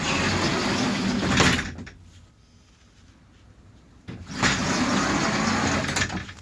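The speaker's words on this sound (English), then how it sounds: "This is our house door." A house door on a yellow step van camper being opened, heard as a loud rattling, clattering burst, then a quiet pause before a second loud stretch of rattling and rumbling, with no talking.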